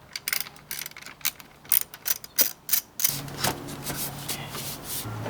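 Three 7mm bolts come off a Volvo boost pipe: a ratchet clicks in quick bursts, a few metallic taps and rattles follow, and then a steadier mechanical whir runs close by.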